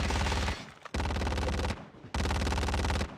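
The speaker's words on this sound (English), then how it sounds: "I'm getting shot up right now." Rapid automatic gunfire from a ghost enemy in a video game, loud and close, in three long sustained bursts separated by brief pauses.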